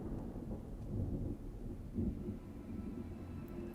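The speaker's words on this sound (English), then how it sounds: "Oh, is that some type of sandstorm? What is that? The storm's moving away from us." Low storm rumble in an animated sci-fi TV scene, a deep continuous roll of thunder-like noise with a couple of swelling surges, steady and moderately distant, no voices.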